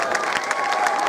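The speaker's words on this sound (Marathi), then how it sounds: "याच्यासाठी टाळ्या होऊ द्या" An audience at a Marathi stage performance breaks into sustained applause mixed with cheering and shouts, a dense, steady wash of clapping from a crowd filling the room.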